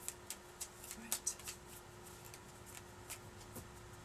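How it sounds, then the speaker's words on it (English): Tarot cards are shuffled close by in a quiet room, giving soft, irregular riffling bursts and light snaps spread across a few seconds with no talking. "Just shuffle the cards"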